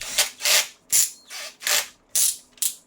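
Screws are being backed out of a Viomi robot mop, heard as seven short close scraping, squeaking twists in quick succession, each a brief rasp separated by short pauses, with no voice.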